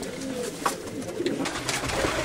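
Pigeons coo softly in a loft, several low rolling calls overlapping at close range against faint background murmur.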